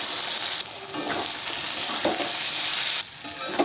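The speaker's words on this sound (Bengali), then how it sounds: "এবার ভালো করে কষিয়ে নেব।" Potatoes and pointed gourd sautéing with ginger-cumin-chili paste and a splash of water in a pan, a steady close sizzle with scraping stirs and brief dips in the frying hiss.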